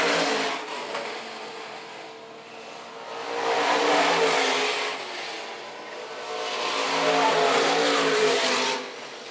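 Stock cars race around the Phillips County Raceway oval, their loud engine roar swelling and fading in two long passes as the pack goes by, with no talk over it.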